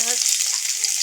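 Onion frying in hot oil for a sour spinach and eggplant dish with small fish, a dense, bright, steady sizzle close up and without pause for a brief moment.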